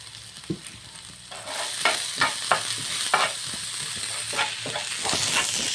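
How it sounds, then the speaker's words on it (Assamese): Ground cumin, cardamom and cinnamon fry in a pan, a dense sizzle with repeated scraping stirs at an irregular rhythm, close and fairly loud. "তাৰপিছত এইখিনি মই ইয়াত ভাজি ল'ম।"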